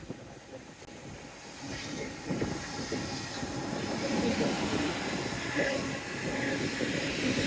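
A train rumbles past at a moderate distance, its low rolling noise swelling steadily, with a faint high squeal of wheels.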